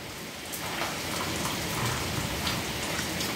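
Steady rain pouring down on a rural farm, a dense even patter of drops hitting surfaces close by, with no voices.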